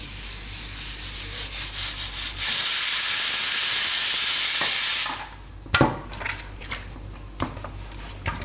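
Raw banana and fenugreek paratha dough being kneaded with oil by hand, a steady close rubbing and squishing that swells loud for a few seconds, then drops to a few soft dabs and taps.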